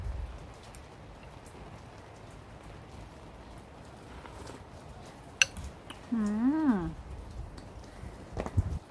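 Steady rain falls outdoors in wind, a continuous hiss of drops on surfaces, broken by a sharp knock and a short rising-and-falling tonal sound near the end.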